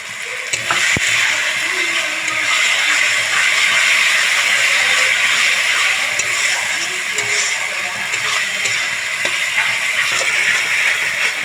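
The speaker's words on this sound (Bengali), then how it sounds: "পেঁয়াজ টমেটো খুব ভালো করে ভাজা হয়ে এসছে" Onion and tomato frying in oil in a pan while a Bengali mutton curry is being cooked, giving a steady, close sizzle and hiss that runs the whole time with no talk over it.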